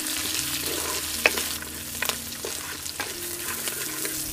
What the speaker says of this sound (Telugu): పచ్చిమిరపకాయలు కూడా వేసుకుని ఉల్లిపాయలు కలర్ మారే వరకు వేయించుకుందాం